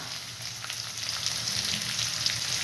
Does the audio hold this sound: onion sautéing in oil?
yes